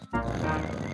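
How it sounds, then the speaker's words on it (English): Cartoon pig Daddy Pig snoring, a low rumbling drone that starts after a brief pause and holds steady and close for the rest of the moment, with no talking over it. "It sounds like snoring."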